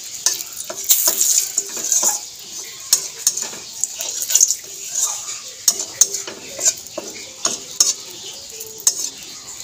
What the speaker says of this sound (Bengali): ফোড়নটা ভাজা হয়ে নাড়িয়ে চাড়িয়ে ভেজে নেব।